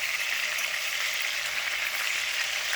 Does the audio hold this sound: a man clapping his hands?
no